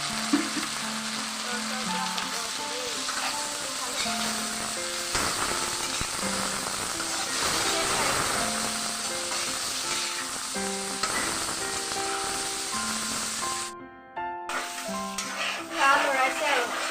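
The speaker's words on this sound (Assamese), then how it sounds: "লৰাইছে আৰু গাহৰিৰ তেলটো এৰালৈকে ভাজিব আৰু।" Pork sizzles and fries in a wok with golden-browned onions, a steady loud crackle with stirring clatter throughout and faint background voices.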